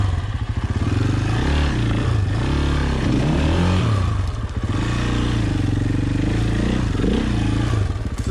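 KTM 950 motorcycles roaring along a rough off-road trail, a loud, close, continuous engine drone rising and falling with throttle, plus some clatter and no talking.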